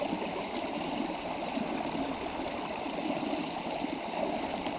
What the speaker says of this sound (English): All this water is just a waste, and it's all just going to go run to the ocean.